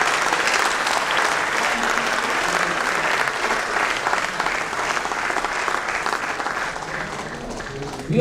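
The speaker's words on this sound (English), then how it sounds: "let's have a common round of applause" An audience at a Builders Association of India Pune awards evening applauds the award winners, a dense, sustained round of clapping that stays steady throughout.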